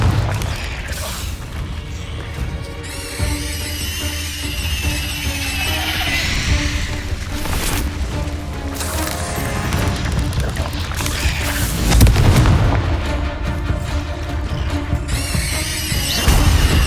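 Confringo fire spells blasting repeatedly in Hogwarts Legacy combat, loud booming crashes and impacts layered over busy battle noise and music, with a swell near the end.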